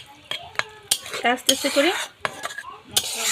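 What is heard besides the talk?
fish and eggplant curry simmering and stirred in a pot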